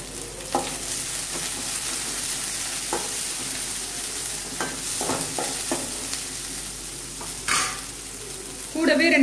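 Sliced onions for poori masala sauté in a pan, a constant frying sizzle under repeated light scrapes and taps of a spoon against the pan, with a louder stirring flurry near the end and no speech.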